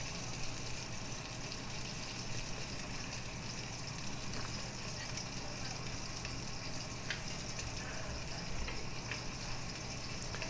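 Beef short ribs searing in a pan and splattering grease, a continuous fairly quiet sizzle and crackle with a few sharper pops.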